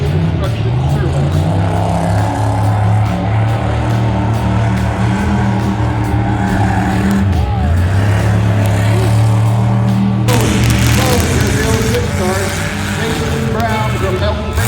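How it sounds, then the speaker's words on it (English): A 1991 Cadillac Seville demolition derby car drives during time trials at a Frontier Days derby, its engine droning and rising loudly and continuously under a talking announcer. "Driving a 91 Cadillac Seville"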